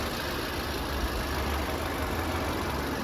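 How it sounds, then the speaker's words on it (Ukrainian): A 2020 Volkswagen Passat engine idles steadily with a continuous low hum and broadband rumble, recorded close and loud with no speech, holding an even level throughout. "Ніяких посторонніх шумів, добра робота двигуна."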